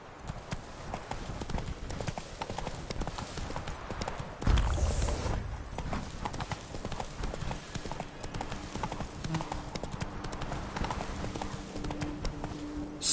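Roach the horse clip-clops steadily along in The Witcher 3, hooves sounding close over ambient game noise, with a brief louder burst midway and no talk.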